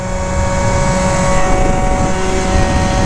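A Phantom F12 scooter with an upgraded Minarelli engine runs at full throttle, giving a loud, continuous high-pitched buzzing drone with steady tonal whine and no break.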